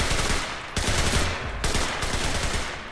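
MG 30 machine gun in the video game Enlisted fires loud, sustained bursts of rapid automatic gunfire, with the stream briefly breaking twice before resuming close and dense.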